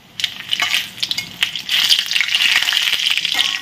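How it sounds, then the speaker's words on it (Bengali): Five-spice seeds, a dried chili and a bay leaf dropped into hot oil crackle and pop sharply at first, then settle into a loud, steady sizzle with scraping stirs and no talking. "তোমার তেলটা গরম হয়ে গেছে, পাঁচফোড়ন দিয়ে দিচ্ছি, একটা শুকনো লঙ্কা, একটা তেজপাতা।"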